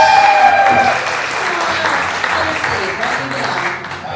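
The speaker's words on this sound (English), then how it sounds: "Give them a big round of applause" Comedy show audience applauds volunteers walking up to the stage, a full, continuous wash of clapping from a crowded room at steady loudness, with a brief voice and tone at the start.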